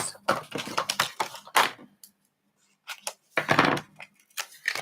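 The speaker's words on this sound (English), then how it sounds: "Okay, scissors." Scissors snip through paper at a crafting desk in a quick cluster of sharp cuts, a short pause, then another burst of close, crisp snipping, quiet and alone.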